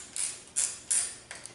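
Ratchet working a nut loose on a small-engine carburetor: three bright, brief clicking bursts about a third of a second apart, then a softer trailing click or two, close and with no talk.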